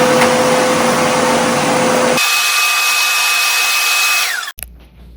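A vacuum cleaner runs loud and steady in a 33 m² rental room, shifting to a higher whine partway through, then winding down and switching off near the end.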